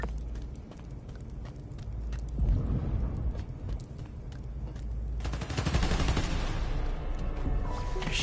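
Rapid gunfire from Spider-Man: Miles Morales, bursts of automatic fire over a busy game soundscape, growing denser and louder partway through.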